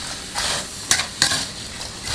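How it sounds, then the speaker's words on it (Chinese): Peanuts with whole spices are stirred over low heat in a wok of hot fine salt. A dry, gritty scraping rustles on steadily, with two sharper scrapes standing out, close and without talk. "下入花生米和里面的香料，开着小火慢慢的炒，过程中不断的翻动"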